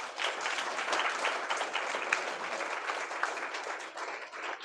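A church congregation at a Sunday meeting claps loudly and continuously, a dense, even wash of applause that holds steady throughout with no pauses.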